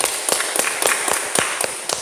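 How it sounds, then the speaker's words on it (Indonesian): A classroom of automotive students clapping together: a quick, steady patter of many hands at close range, brief and without talk. "tepuk tangan dulu untuk kita semuanya"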